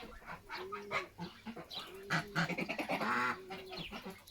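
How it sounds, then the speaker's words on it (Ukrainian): Farm geese on a homestead honk in a series of short nasal calls, some overlapping, nearby and fairly quiet, with no speech. "Гуси тут розбираються, що де і куди."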